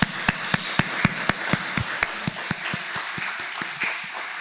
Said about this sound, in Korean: 잠시 일어섰으면 박수로 환영해 주시면 고맙겠습니다